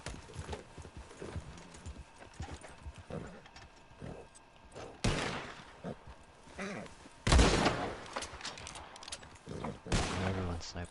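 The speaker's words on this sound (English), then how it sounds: "Everyone's sniping." Sniper rifle fire in a video game: a few loud, sharp cracks spaced seconds apart, cutting through a continuous patter of horse hoofbeats in the background.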